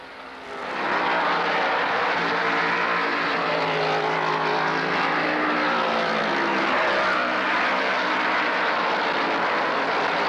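Stock cars roar around the track at the 1972 Winston 500 NASCAR race, a broad, sustained engine drone that rises early and holds loud and steady as the pack sweeps past, with no talk over it.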